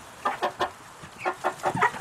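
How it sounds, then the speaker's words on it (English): Large Cornish Rock meat chickens, about 12 weeks old, cluck in a quick series of short, close bursts in two clusters, with low farmyard background and no talk. "We do have some big birds."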